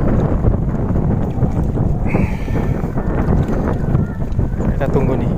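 Wind gusting across a shrimp fishing pond, a steady, loud broadband rush with buffeting on the microphone that stays constant throughout.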